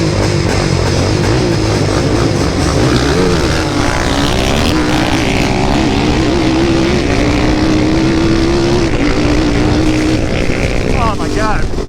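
A hybrid race quad drag races through the sand dunes at Little Sahara, its engine roaring loud and close with rising and falling revs throughout.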